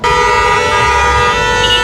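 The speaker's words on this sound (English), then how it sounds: "they're honking their horns." Car horns honk loudly in a city street in Los Angeles during night-time unrest, a sustained, blaring horn tone held nearly two seconds close by with traffic noise beneath.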